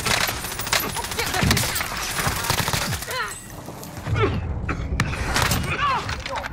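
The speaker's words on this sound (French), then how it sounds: "On tire dessus." Gunfire in the video game Modern Warfare on Rebirth Island, bursts of shots and impacts with game effects around them, loud and dense, with voices talking over it.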